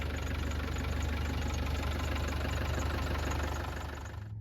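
A 1997 Land Rover Defender 110 with the 300Tdi diesel engine idles close by, a steady, even knocking rumble that holds constant throughout, with no voices.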